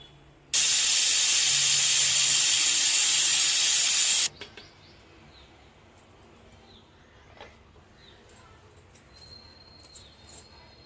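A pressure cooker whistles while katte pongal cooks, letting out a loud, steady, piercing steam hiss for about four seconds before it cuts off abruptly, leaving quiet kitchen noise with faint clinks.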